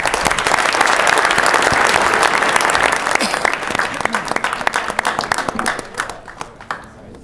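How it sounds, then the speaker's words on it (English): A crowd gives a loud round of applause, dense clapping from many hands that holds steady for several seconds, then thins into scattered individual claps as it fades. "One more round of applause"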